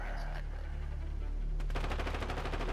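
Rapid automatic gunfire in a video game shooter breaks out partway through, a loud, dense burst of shots over a steady low engine-like drone.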